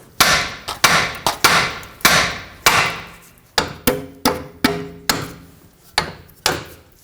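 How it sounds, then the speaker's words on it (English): A hammer taps the steering knuckle of a 2012-2017 Toyota Camry to free the tie rod during a front wheel bearing job, giving about a dozen sharp, close metallic strikes in uneven rhythm with no talk. "Now tap the side of the knuckle here."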